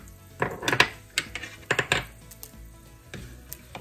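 Sliced onion and peppers go into a hot pan with leftover sausage grease, giving clattering knocks of food and utensil against metal in short bursts, with a soft sizzle underneath and no talking.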